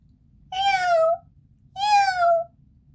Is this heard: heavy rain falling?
no